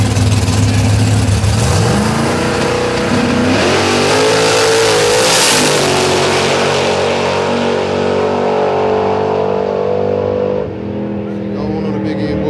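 The Agitator drag race car revs loudly and close, a dense engine roar that climbs and falls in pitch through several throttle swells, sustained for the whole stretch with crowd or commentary voices mixed underneath.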